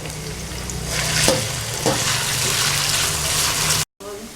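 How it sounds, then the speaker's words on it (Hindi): Potatoes fry in hot oil in a wok, giving a steady close sizzle with a couple of soft stirring knocks and a brief cut to silence near the end. "बाकी आलू जो रहते हैं उनको भी मैं फ्राई कर लेता हूँ।"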